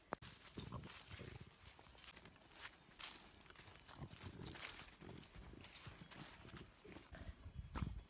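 Cows wander around a farm inn, with irregular hoof clops and shuffling steps close by on hard ground, fairly faint and continuous throughout.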